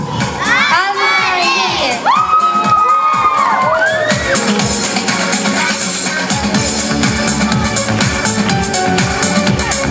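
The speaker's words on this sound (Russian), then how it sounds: "замечательные аплодисменты таким юным художникам" A young audience at a summer-camp club presentation breaks into loud shouting, whoops and cheering, a dense close crowd of children's voices with clapping that carries on steadily to the end.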